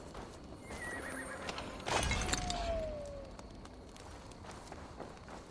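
A horse neighs in Assassin's Creed Valhalla, a single clear whinny near the middle, with clip-clop hooves and in-game ambience around it.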